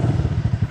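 Keeway Superlight 200 motorcycle engine starting up, a loud, close, rough, pulsing idle with clattery mechanical chatter throughout the short moment.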